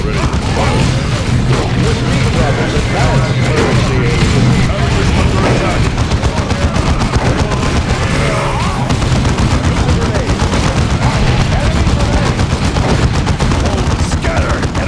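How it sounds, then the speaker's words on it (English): Dense, continuous gunfire and explosions from Warhammer 40,000: Dawn of War II battle, loud throughout with constant overlapping shots, booms and game voice lines mixed in. "Scatter! Enemy shockwave coming! Incoming fire!"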